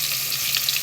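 Pomfret fish fry in hot oil in a pan, giving a close, steady hiss that lasts the whole brief moment with no voices.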